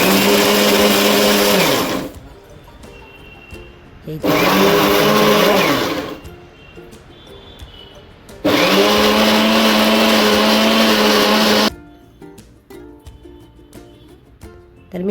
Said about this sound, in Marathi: हे सर्व आता मी छान वाटून घेणार आहे आणि मच्छीचं वाटण नेहमी अगदी जितकं बारीक होईल तेवढं बारीक करायचं